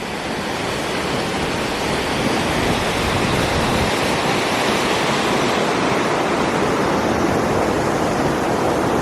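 Loud, continuous roar of a rushing mountain creek in a canyon, a dense broadband wash of churning water heard up close with no voices.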